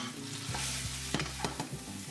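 Pork stir-fried with green onion, ginger and fava bean chili sauce in a wok, steady close sizzle with a few sharp scraping knocks of a chopstick or spatula stirring near the end.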